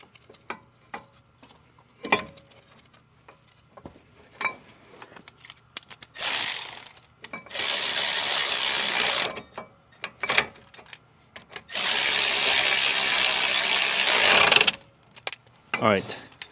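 A ratchet works on caliper bracket bolts of a Ford Ranger, with bursts of rapid metallic clicking between sparse clanks and handling noises, plus two longer stretches of loud, steady whirring.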